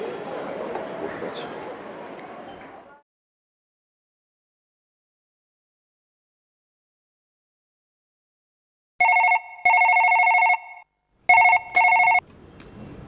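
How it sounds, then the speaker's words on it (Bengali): Phone ringback tones on an outgoing call come as two short bursts and then two more after long silence, preceded by crowd-like chatter and followed by voices. "আপনি না ফোন করেন আবার ফোন করেন"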